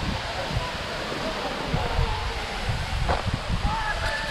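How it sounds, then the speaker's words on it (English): Constant rushing roar of a waterfall at Fall Creek Falls State Park, Tennessee, close and steady, with a few low bumps and faint handling noise on top. "You can feel the mist from this waterfall."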